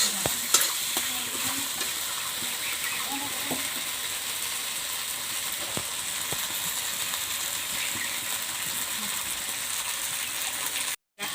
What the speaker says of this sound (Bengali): এখন আমি সমস্ত মশলাগুলো দিয়ে ভালোভাবে কষে নেব যাতে কাঁচা গন্ধটা চলে যায়।